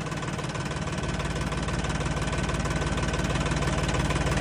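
A Swaraj Turbo tractor engine runs close and loud, a dense, rapid knocking diesel chug that holds steady and builds slightly in intensity over a few seconds.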